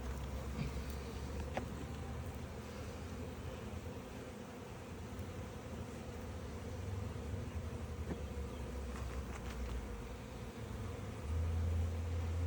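Honey bees drone in a steady, dense buzz during a hive split, a continuous close swarm hum that holds level throughout with no talking.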